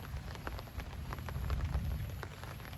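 Soft rain pattering on a surface with scattered drops and low thunder rumbling in the distance to the west, fairly faint and steady over a short stretch.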